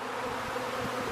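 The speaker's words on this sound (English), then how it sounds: "we have a mass of bees gathered up out here" A mass of honeybees gathered outside a hive during swarming, buzzing in a dense, continuous drone that stays steady and fairly close throughout.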